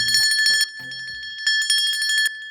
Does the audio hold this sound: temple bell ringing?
yes